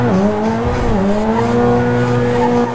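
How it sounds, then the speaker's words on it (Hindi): A GTA 5 car tears along at high speed, its engine note sagging briefly before climbing back into a sustained loud whine, with tyres squealing over the top. "300 की स्पीड पर गाड़ी भाग रही है"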